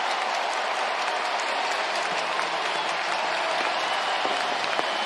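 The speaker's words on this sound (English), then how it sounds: "the Iron Man will stand and applaud as the O's jump on top." A baseball stadium crowd cheers and applauds after an Orioles home run in Baltimore, a dense, steady roar of clapping and cheering that holds at full strength without letup.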